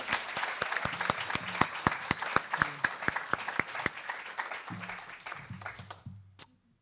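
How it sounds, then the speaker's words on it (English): An audience at a concert evening at the Bainbridge Island Museum of Art gives a warm round of applause, with sharp individual claps standing out over steady clapping that fades out as a voice begins speaking. "can we just get one rousing round of applause for the whole thing that is the Bainbridge"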